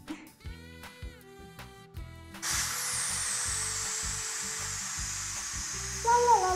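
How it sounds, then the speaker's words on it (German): Air hisses out of a bicycle tyre during a tubeless conversion: after a couple of seconds of clicking and tonal knocks, a steady loud hiss starts abruptly and holds, swelling near the end. "Und dann fange ich auch schon an und lasse die Luft raus."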